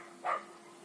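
A single short yip from a small dog, faint and distant outdoors, standing out briefly from a low steady background hum.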